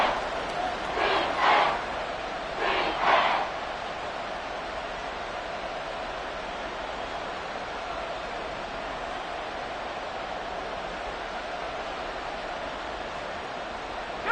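A football stadium crowd roars in two short swells near the start, then settles into a steady wash of crowd noise.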